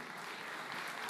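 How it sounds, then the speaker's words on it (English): Brief burst of audience applause for a prize winner at a QA conference live stream, dense and steady clapping with no voices. "Applause for Svetlin."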